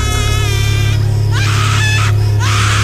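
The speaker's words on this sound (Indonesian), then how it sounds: "Tiba-tiba Tia meraung kesakitan" A woman wails and screams as if in pain, rising, sliding cries over a steady low hum, loud and close, in a scene of apparent possession.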